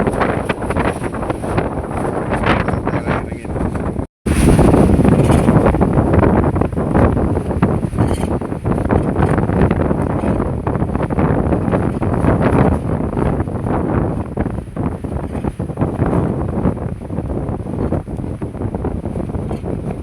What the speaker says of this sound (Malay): Pasal apa ni, angin dia kuat.